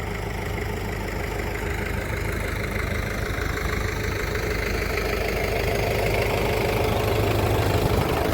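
A tractor engine ploughing a field drones steadily and loudly throughout, a continuous rumbling chug that grows slightly stronger toward the end.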